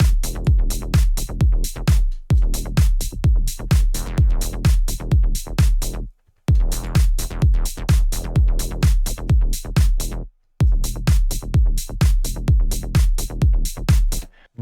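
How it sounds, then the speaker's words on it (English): Melodic techno bass made in Serum 2 pumps hard against a steady four-on-the-floor kick with heavy sidechain ducking on every beat. It is loud, with brief drops in the loop and no voices. "in the context of some drums and sidechaining, our bass sounds like this"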